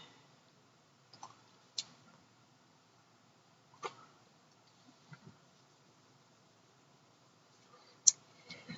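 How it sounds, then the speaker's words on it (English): Faint, sparse computer mouse clicks, a handful of sharp isolated ticks spread over several seconds in a quiet room, with no talking. "I'm going to just click on one, click on the other, and drag"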